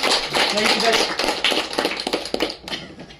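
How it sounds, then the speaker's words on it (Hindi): A crowd applauds at a talk on earth's magnetic power, a dense wash of clapping swelling and then thinning, mixed with voices. "दिनेश भाई के लिए एक जोरदार तालियां"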